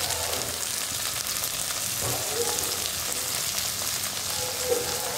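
A pan fries and is stirred with turmeric and salt, producing a steady, moderately loud sizzle with a few soft stirring scrapes. Nothing else is heard.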